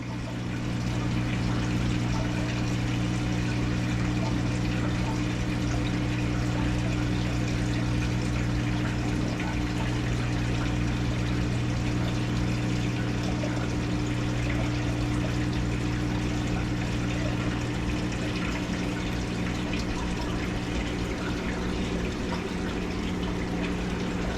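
A Maytag top-load washer drains water during a quick wash cycle: a steady, loud pump hum runs with rushing water throughout, unbroken and constant, with no voices.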